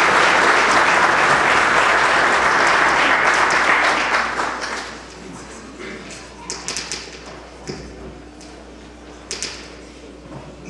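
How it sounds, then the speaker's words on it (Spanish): An audience at a Peruvian book presentation applauds loudly to welcome a speaker, dense clapping that fades after about four seconds into scattered taps and thumps. "Damas y caballeros, lo recibimos con fuertes aplausos"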